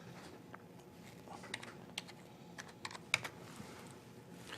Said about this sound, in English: So we're going to go up over here and type in a little bit of code.